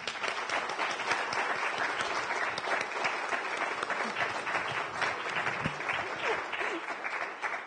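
An audience at an academic tribute event claps warmly: dense, sustained applause fills the whole stretch at an even level.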